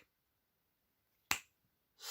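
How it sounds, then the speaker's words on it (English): A single sharp finger snap cracks out during a close-up card trick, crisp and near against near silence, followed moments later by the onset of another sound. "Snap my fingers."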